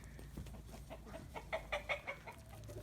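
Ameraucana chickens cluck softly in a farmyard, a faint run of short, rising clucks bunched near the end.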